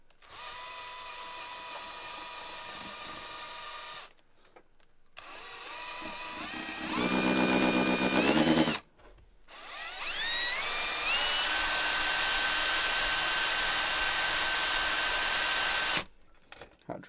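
A power drill runs with a 3mm bit in a home workshop in several separate bursts, a high whine spinning up and settling at a steady pitch, each run cutting off sharply between short pauses.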